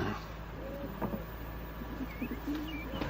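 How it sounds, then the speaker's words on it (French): Pigeons coo in short, soft murmuring calls, with a few faint chirps amid quiet outdoor ambience. "Des pigeons."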